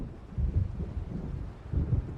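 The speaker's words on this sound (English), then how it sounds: "It seems there's a storm coming." Low, distant thunder rumbles from an approaching storm in Alan Wake Remastered, two soft rolling swells over a windy, muffled background.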